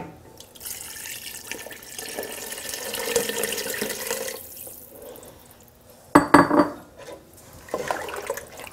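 Water poured from a container into a gumbo pot of chopped tomatoes, a steady splashing stream for several seconds, then a brief louder slosh and a few trailing splashes.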